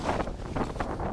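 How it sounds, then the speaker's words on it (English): Wind at 10 to 15 miles per hour buffets the microphone on an Appalachian mountain ridge, a brief gusty rumble with uneven puffs. "the wind's picked up, blowing about 10 to 15 miles per hour."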